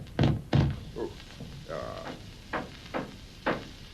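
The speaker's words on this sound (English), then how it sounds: "whence is that knocking?" Knocking effect in a staged Macbeth scene: two loud, close thunks near the start, then softer separate knocks spaced through the rest, with brief speech between them.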